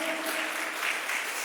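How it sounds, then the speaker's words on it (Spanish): A church congregation applauds in a brief, dense burst of clapping that stays steady and fairly close throughout. "Den un aplauso, qué tremendo."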